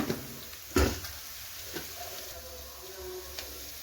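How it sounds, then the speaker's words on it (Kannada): Onions and spices with turmeric fry in a pan for Bombay sagu, giving a steady low sizzle broken by a loud utensil knock and a few softer stirring scrapes nearby. "ಸ್ವಲ್ಪ ಇದನ್ನು ಫ್ರೈ ಮಾಡ್ಕೊಳ್ಳೋಣ. ಸ್ವಲ್ಪ ಫ್ರೈ ಆಗಿದೆ."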